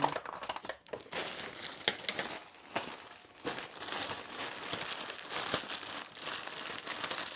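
Plastic packaging from a parcel crinkles and rustles as it is unpacked on a workbench, close and moderately quiet, in irregular bursts with a few sharper crackles and no talking.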